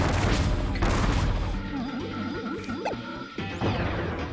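Bomb blasts in the Wii game Kirby's Return to Dream Land: several loud crashing impacts in quick succession, then a stretch of lighter game effects and a final heavy crash near the end.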